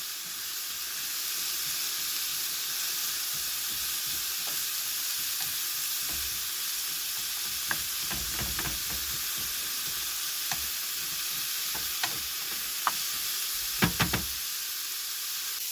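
Food sizzles and fries steadily in a pan at a stealth camp in a vehicle, a constant close hiss with a few light knocks and stirring clatters near the end, no talk.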